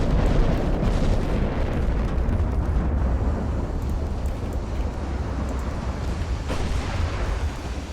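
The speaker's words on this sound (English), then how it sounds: "18-inch guns hitting a destroyer does not go well for the destroyer" 18-inch battleship guns fire in the naval game Ultimate Admiral: Dreadnoughts, a sustained heavy low rumble of booming blasts rolling continuously without clear gaps.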